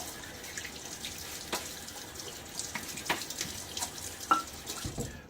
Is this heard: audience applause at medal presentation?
no